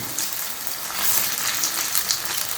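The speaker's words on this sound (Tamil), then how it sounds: "வடை போட்டாச்சு. அது நல்லா வேகணும்." Vada frying in hot oil gives a steady, close crackling sizzle with bright popping bubbles, constant and fairly loud without any voices.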